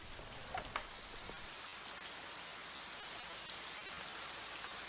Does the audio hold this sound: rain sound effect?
yes